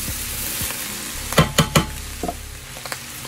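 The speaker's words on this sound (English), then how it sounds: "here I'm adding my rice" Rice tipped into a hot sizzling pan and stirred, with steady frying hiss underneath and several sharp scraping clinks of the utensil against the pan, close and fairly loud with no talking.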